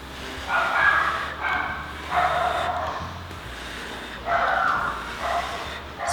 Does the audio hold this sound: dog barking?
yes